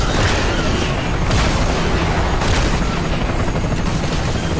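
Dense, continuous gunfire and booming blasts from a shotgun in the video game Bulletstorm, loud and steady throughout with no pauses and no voices heard.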